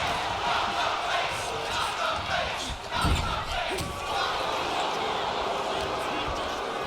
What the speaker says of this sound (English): The crowd, I think, shouting "Nod the face."